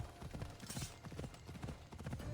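A white unicorn mount in Assassin's Creed trots with steady rhythmic hoof clip-clops, fairly close and continuous, over faint background game ambience.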